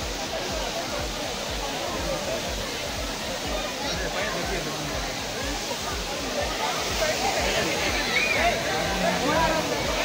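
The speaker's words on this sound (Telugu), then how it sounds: "చూసారా ఆ వాటర్ ఫాల్ సౌండ్స్కి" Vibhuti Falls waterfall rushing steadily in a broad, continuous roar, with the babble of people talking nearby mixed into the wash of water throughout.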